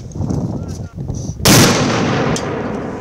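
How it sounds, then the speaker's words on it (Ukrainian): An RPG-7 grenade launcher fired by a territorial defense soldier during weapons training: a single loud, sharp blast cuts in after quiet chatter, then rings out in a long decaying rumble. "ВДВ вже не вперше стріляє з РПГ-7."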